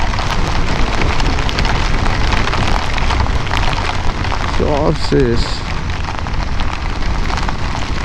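Heavy rain pours down on a mountain road on the way to Dharchula, a loud, dense, steady hiss throughout, with a short burst of speech midway.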